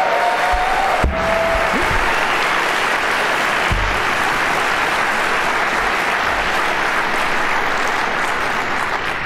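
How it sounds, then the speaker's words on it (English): Loud, sustained applause from a big conference crowd honoring event volunteers, continuous and even throughout, with a brief thump and a short voice early on. "Let's give a round of applause for those folks."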